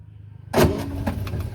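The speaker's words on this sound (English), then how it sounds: "We'll start the car." A 1980 Premier Padmini Fiat car is started after quiet, with a sudden loud engine catch and a few sputtering bursts settling into a rough idle, close by.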